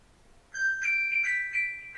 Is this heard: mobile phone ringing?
yes